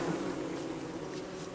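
Bees in the video game Don't Starve make a soft, continuous buzzing drone that holds steady at low volume throughout, alone with no talking.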